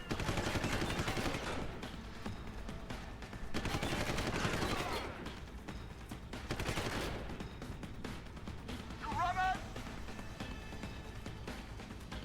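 Shotgun blasts ring out in the video game Deus Ex: Human Revolution, loud, dense bursts of gunfire recurring through the stretch amid other harsh combat noise.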